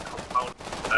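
Volley of gunfire during an ambush on Russian forces in the military shooter Arma 3, a dense, continuous crackle with brief louder bursts, fairly close and with no clear speech.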